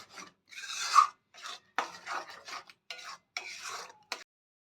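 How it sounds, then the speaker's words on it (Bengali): A spoon stirs and scrapes spice paste being sautéed in a pan, heard as short, quiet, close scraping strokes in an uneven rhythm with brief silent gaps between them. "পুরো মশলাটাকে আমরা ভালো করে কষিয়ে নেব"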